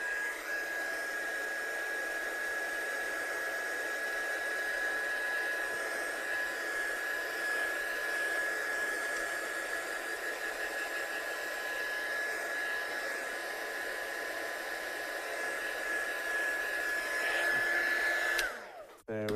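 A heat tool blows steadily on roughly 300 GSM watercolour card, a loud, continuous whir with a thin high whine that holds for most of the stretch before cutting off abruptly near the end.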